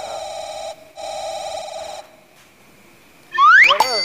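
A mobile phone rings in two loud electronic bursts separated by a brief gap, then a quieter pause before a sharp rising chirp close by.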